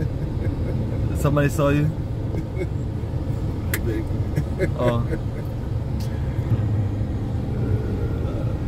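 A car driving through East Legon, Ghana, heard from inside as a steady low road rumble, with voices talking over it throughout.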